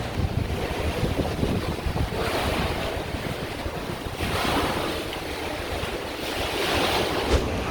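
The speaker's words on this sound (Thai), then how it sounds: "ทุกคนจะได้ยินเสียงคลื่นนะคะ" Ocean waves at Pattaya, Thailand surge and crash repeatedly, blended with strong wind buffeting the microphone; no one speaks.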